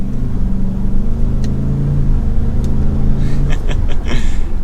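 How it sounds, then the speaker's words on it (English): A Ford F-150 King Ranch pickup with the EcoBoost engine and 10-speed automatic accelerating, a loud, close, steady low engine rumble rising smoothly with no audible gear changes and no talk. "The EcoBoost really does pack a punch and get you up to some speed."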